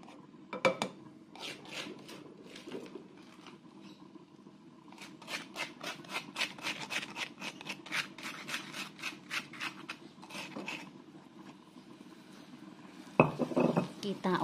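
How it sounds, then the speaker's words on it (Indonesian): Seasoning stir-fried in oil in a pan while making chicken noodles, heard as repeated scraping and clinking strokes of a utensil against the pan in an irregular rhythm, fairly close, with a louder clatter near the end. "Kita oseng-oseng."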